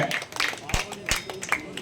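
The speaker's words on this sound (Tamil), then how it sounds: "ஜோர கைத்தட்டுங்க, ஜோர கைத்தட்டுங்க" Scattered hand claps from an audience at an Ayyavazhi devotional music concert, a few sharp irregular claps over a voice talking.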